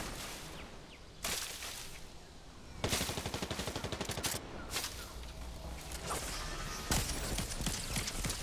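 Video game gunfire, with several bursts of rapid automatic shots, fairly close and loud, broken by short gaps and single louder cracks.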